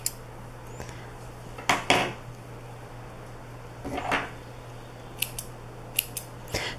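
Scissors snip through fabric for a hoodie in a few short, crisp cuts, some paired in quick succession, close up against a faint steady hum with no talking.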